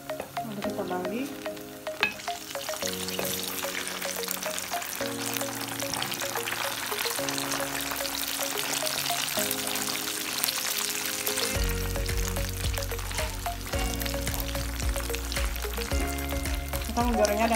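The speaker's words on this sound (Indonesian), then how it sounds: "kita menggorengnya dengan api kecil." Food frying in a pan over low heat until browned, a steady hiss and crackle of sizzling oil that continues without pause under sustained tonal background sounds.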